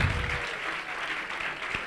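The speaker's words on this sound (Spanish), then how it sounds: "Un fortísimo aplauso, un claro que aplauso, sí, a los dos" Spectators at the OSHWDem 2019 mini sumo robot competition clap for both competing robots, a moderately faint, rippling patter of applause from a crowd after a low thud at the start.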